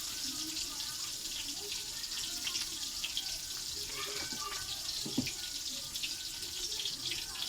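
Water pours steadily into a bowl of chopped tomato, white mustard and chili being readied for grinding into a spice paste, a continuous close splashing stream with no voices.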